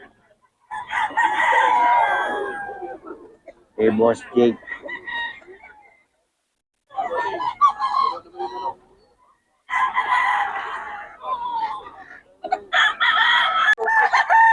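Roosters crow in a house yard with several chickens, loud and close, in repeated separate bursts with quiet gaps, while someone talks briefly.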